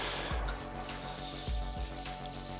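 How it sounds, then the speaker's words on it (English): Crickets trill in a steady high, near chorus on a warm southern backcountry evening, broken by short pauses, with low croaking frog calls pulsing underneath. "You can hear the crickets."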